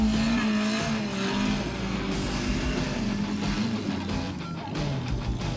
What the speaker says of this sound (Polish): Na torze w Lemierzycach pojawili się miłośnicy ostrego ścigania.